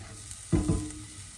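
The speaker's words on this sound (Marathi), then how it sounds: "हांवें अर्दो कांदो घेतला. कांदो मातसो फ्राय करप." Half an onion goes into a hot pan for Goan mackerel curry, giving a short burst of sizzling and a quick stir, close and brief, against a quiet background.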